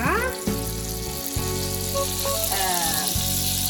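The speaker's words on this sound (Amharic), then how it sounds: "እዚህ ጋር ሌላ መጥበሻ ላይ ቅቤን እንደዚህ አቀልጥና ከዛ" Butter melting in a frying pan while making Alfredo sauce, giving a steady close sizzle and crackle that runs through the whole moment with faint kitchen clatter.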